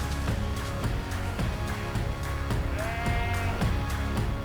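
Sheep bleat on a hill farm during lambing season, several drawn-out, wavering calls rising over a steady bed of outdoor noise, fairly close and with no talking.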